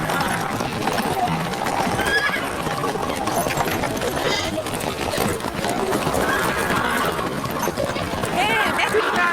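Horse hooves clip-clop steadily amid a busy, loud scene with whinnying and voices talking over the continuous trotting.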